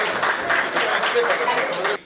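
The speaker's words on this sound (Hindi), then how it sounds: "एक बार दोनों हाथ उठाकर भरपूर तालियां दे दीजिए" Audience at a Hindi comedy poetry gathering in Faridabad applauding as a poet is welcomed to the stage; a dense wash of clapping runs under a speaking voice and stops abruptly at the end.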